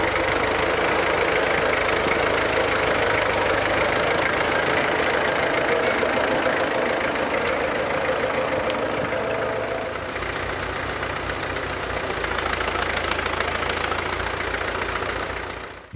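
A Fiat 411R tractor from around 1960 idles steadily with a rough, knocking chug, loud and close throughout, with a slight shift in tone partway through.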